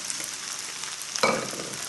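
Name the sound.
rice and prawns sizzling in a hot pan, fried rice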